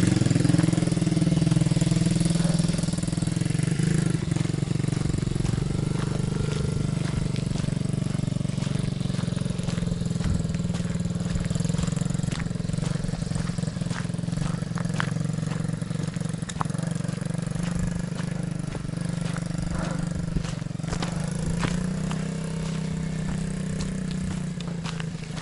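An MRF pit bike engine revving uphill, a steady mid-pitched drone that holds fairly loud for the whole stretch, with slight rises and dips in throttle and no clear talk.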